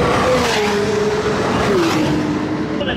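A race car on its warm-up lap, weaving side to side to heat its tyres, gives a loud, continuous engine drone whose pitch glides smoothly up and down as it swerves.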